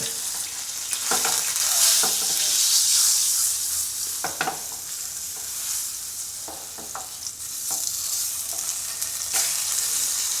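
Food fries in a pan with pepper and salt, a continuous close sizzle with occasional stirring scrapes and clinks, no voices.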